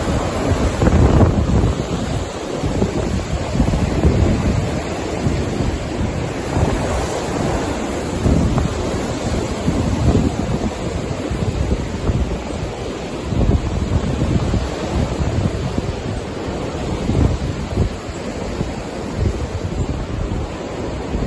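An autumn storm's wind rushes through alder trees in a garden food forest, a loud, continuous broadband roar with gusting surges and no voices.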